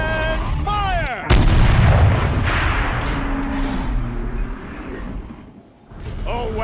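A turret firing in the video game Horizon Zero Dawn, with a single loud, close boom and a rumbling tail that fades over several seconds, while a voice speaks before and after the blast.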